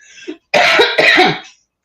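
A short throat sound followed by two harsh, loud coughs in quick succession, close by, then silence.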